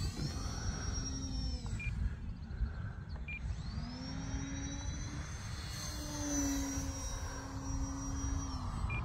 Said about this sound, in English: It's actually been a little bit since I've flown this airplane